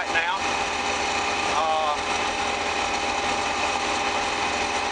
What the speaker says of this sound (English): Things seem to be going in the combine pretty good right now.